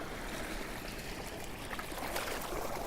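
Gentle water washing and trickling in a steady, continuous wash, like small waves lapping at a shore, soft and even throughout with no voices.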